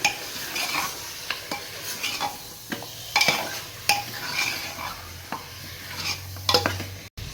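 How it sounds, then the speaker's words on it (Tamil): Mutton being stirred into masala in a pot for mutton salna, a spoon scraping and turning the mixture in short strokes with a faint sizzle underneath, close and moderately loud, no voices. "மட்டனையும் மசாலாவோட சேர்க்கணும். நல்ல கிளறிடும்."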